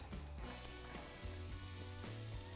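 Small cubes of kohlrabi roast in a frying pan, giving a steady, soft hiss of sizzling with occasional scraping stirs and clinks, quiet and close with no talk.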